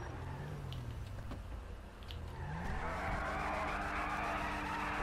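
A BMW X5-style SUV in the video game GTA V Online skids with squealing tires, then revs its engine. The engine noise rises over the last half, close and loud.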